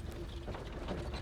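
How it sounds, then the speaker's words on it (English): Mine carts in a Hogwarts video game roll and rattle along with a continuous mechanical clatter, steady and fairly loud throughout, with no one speaking. "The carts are returning to Arn."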